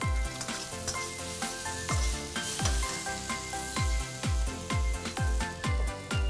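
Galangal and kaffir lime leaves frying in oil in a pan, a constant loud sizzle broken by rhythmic scraping stirs about every half second.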